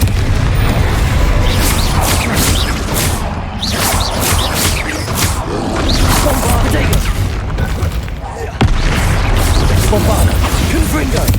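Blasting-spell explosions in the Hogwarts Legacy video game come as a rapid series of loud booms and crashing bursts in a busy battle, with voices mixed through the clamor.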